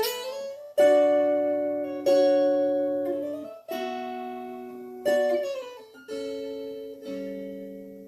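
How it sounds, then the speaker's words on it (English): Plucked string notes ring out one after another, each sliding briefly into pitch before sustaining and fading; no talking. "So leading thumb slides would make it sound like this."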